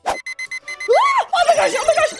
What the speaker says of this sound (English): I just slept through my alarm.